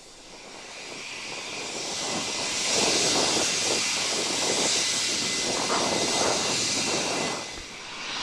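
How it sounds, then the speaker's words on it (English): A Britannia Airways airliner's engines roar with a broad hissing whine that swells over a few seconds, holds steady, then fades slightly, heard from a distance at an airport. "I used to love this aircraft."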